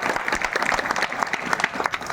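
An indoor audience claps together in dense, steady applause, fairly close, lasting briefly without talk.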